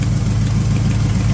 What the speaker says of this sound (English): Idling's probably a little high right now.